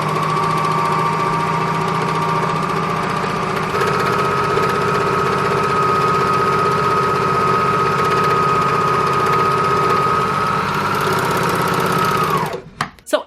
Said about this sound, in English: let's take a look at how the Juki sews